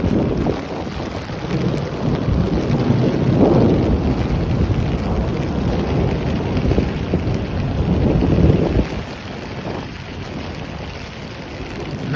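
Severe thunderstorm in Midtown Manhattan, with steady heavy rain and gusting wind buffeting the microphone and low rumbles of thunder rolling through twice.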